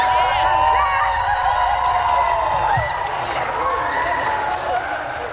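A crowd of women cheers as the U.S. Senate passes the Epstein Files Transparency Act, with loud, continuous shouts and excited whoops mingled with overlapping voices throughout.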